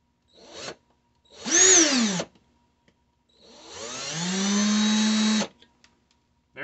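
A power drill drilling out a rusted, stripped screw from a GI Joe action figure whirs in two bursts, revving up and whining at high speed, separated by a brief pause, fairly close and loud.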